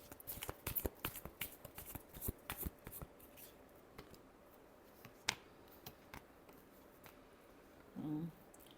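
Tarot cards being shuffled by hand, a dense run of quick papery riffles and taps in the first few seconds, then sparser flicks and a single sharp snap, ending with a short low rustle; close and fairly quiet.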